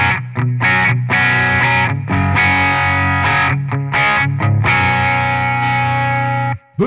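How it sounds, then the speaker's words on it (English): An electric guitar played through a NUX B-8 wireless system with a boost engaged rings out in distorted, effects-laden chords and bursts, loud and close, with short gaps between phrases and no speech. "So I'm going to whack it over to a guitar sound now."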